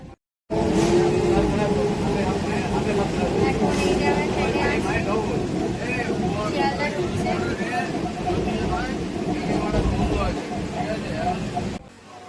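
Inside a moving local train bound for Sealdah, a steady rumble and rattle carry on through the whole ride, with passenger chatter and voices over the top.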